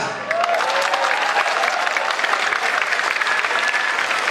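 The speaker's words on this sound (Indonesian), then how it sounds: "Angkat aplaus khusus buat Mas Kibra" An audience at a school opening ceremony and Indonesian Independence Day commemoration gives a dense, steady round of applause for Mas Kibra, many hands clapping together without pause for the whole stretch.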